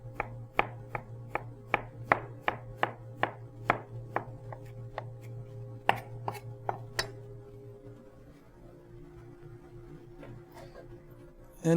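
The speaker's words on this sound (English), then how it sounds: "We'll cut it in half here and do some thin slices." A knife cuts through an ingredient on a cutting board, first halving it and then slicing it thinly, with about fifteen crisp, evenly paced chops over a low steady hum before the strokes stop.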